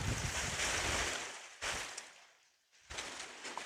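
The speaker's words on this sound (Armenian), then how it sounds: "եգիպտացորենի տերևները ոնց են խշխշում" Corn leaves rustle in the wind in a broad, breathy hiss that surges and fades in gusts, with wind buffeting the microphone nearby.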